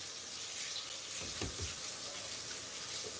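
A kitchen tap runs steadily for washing, a close, continuous hiss of water splashing into a sink, lasting the whole moment with no voices.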